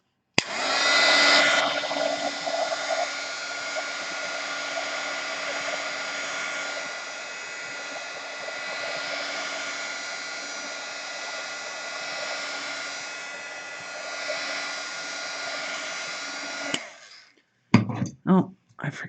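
Hair dryer running steadily at close range for about seventeen seconds to dry a watercolor painting of a raven, then switching off, followed by a few clicks and handling noises.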